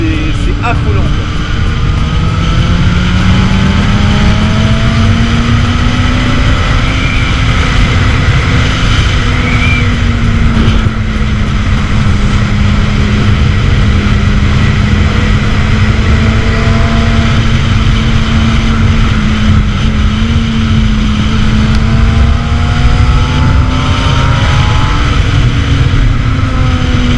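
A 2008 Kawasaki ZX-6R sport motorcycle engine pulls hard above 8000 rpm, droning loudly and continuously with a high-pitched, wavering whine under heavy wind rush, a voice speaking intermittently over it.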